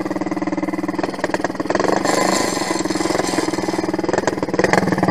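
A small quad bike engine revs hard and close, its rough, sputtering note rising and falling in repeated bursts of throttle.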